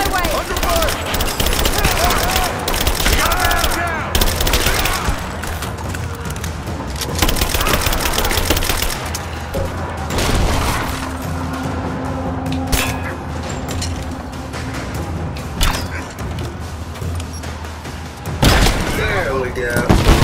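Gunfire in Rise of the Tomb Raider, with dense, continuous bursts and thuds across a loud game battle, a steady low rumble underneath and shots clustering more heavily near the end.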